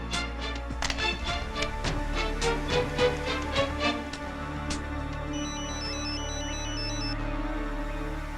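A mobile phone rings in an office with a repeated tonal electronic ringtone, fairly loud and close, starting with tapping pulses and moving into a higher warbling melody that carries on steadily to the end.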